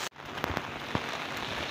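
Heavy rain in a forest area roars down as a dense, even hiss, with a few sharper drips and splashes standing out close by and no talking.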